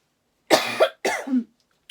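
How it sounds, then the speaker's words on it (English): Two close, loud coughs in quick succession from a woman, each a harsh burst with a raspy tail, followed by a brief faint sound near the end. "I need to cough again."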